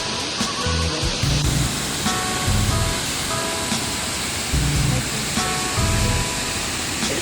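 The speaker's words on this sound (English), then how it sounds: "the waterfall had already changed, with the flow looking much gentler than before." The Basochu waterfall in a green mountain valley roars with a loud, constant broadband rush, and faint low thumps recur beneath the steady flow.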